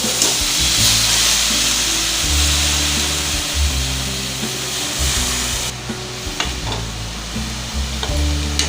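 Chopped banana stem fries with softened onions in a pan for a Tamil valaithandu poriyal, giving a loud, steady close sizzle broken by the scrape and clatter of stirring, with no voices.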